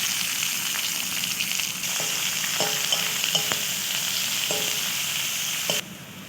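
Chopped onion hitting hot oil with whole garam masala spices in a pan, giving a steady dense sizzle throughout, with a few soft stirring clinks over it.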